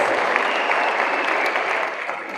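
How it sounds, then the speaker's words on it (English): Audience at a high school event applauds its speakers, a thick, continuous roar of clapping from a sizable crowd, loud and steady, easing slightly toward the close. "let's give our 3 speakers a round of applause"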